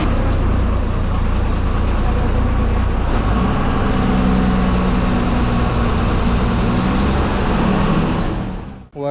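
An MSRTC state transport bus idles at the Wardha bus stand, a loud, steady low engine drone with a humming tone joining midway, filling the whole stretch without any talking.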